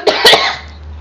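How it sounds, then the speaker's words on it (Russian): A woman coughs from a cold: two close, loud, harsh coughs up close with a short throat-clearing tail, alone without talk. "Я просто приболела простудом. В общем, поэтому кашель."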